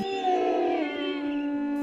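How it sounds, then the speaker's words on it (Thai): Dogs howling together at night, a long sustained wailing cry with steady drawn-out tones that hold for a couple of seconds, close and fairly loud with no talking. "มันคือเสียงของหมาหอนกันละงมแทน"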